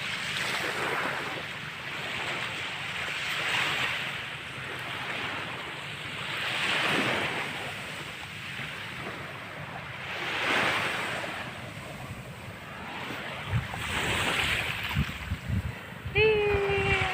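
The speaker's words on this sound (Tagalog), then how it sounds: "Nandito ako ngayon sa dagat." Sea waves wash in and recede in slow swells every few seconds at the shore, with steady wind buffeting the microphone.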